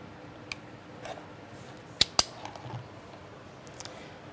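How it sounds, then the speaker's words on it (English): Scissors trimming fabric on a zipper pouch being sewn, with two sharp close snips in quick succession amid a quiet room and a few faint clicks. "I'm just going to trim this off right here"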